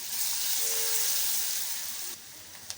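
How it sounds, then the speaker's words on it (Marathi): Finely chopped onion frying in a pan with cumin powder, ginger and garlic, giving a steady, soft, even sizzle that holds for a couple of seconds, then drops slightly, with one faint clink near the end. "त्यानंतर कांदा घालायचा आहे, बारीक चिरला आहे कांदा आणि हे सगळं फ्राय करायचं आहे"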